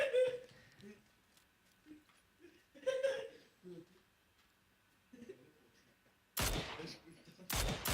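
Bursts of rapid gunfire from a shooter video game, two loud volleys near the end following sparse quieter shots, with people talking and laughing over the action.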